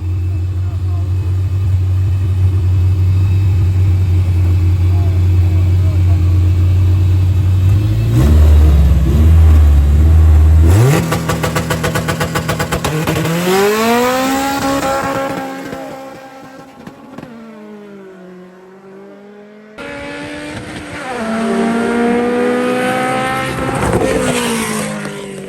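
An Infiniti Fuga race car launches and accelerates hard in the right lane at a Vernam Field drag strip, its engine note climbing in loud repeated rising sweeps through the gears, close and under a voice.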